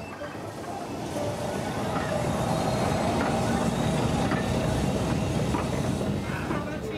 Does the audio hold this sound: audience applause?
no